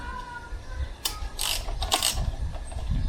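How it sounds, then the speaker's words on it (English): A ratchet wrench loosens a 10mm bolt on a 1980s Citroen BX while an air filter element is being replaced. Close, metallic ratcheting comes in a few quick bursts, with mechanical clatter between them. "I'm just going to remove that 10mm bolt."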